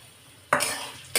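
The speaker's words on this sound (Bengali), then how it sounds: "পেঁয়াজটা দিলাম, একটুখানি আমি বেরেস্তা ভেজে নেব অল্প পেঁয়াজ দিয়ে।" Sliced onions drop into hot oil for beresta, a sudden loud sizzle bursting up after a quiet moment and holding steady, then a second sharp crackle at the end, close by.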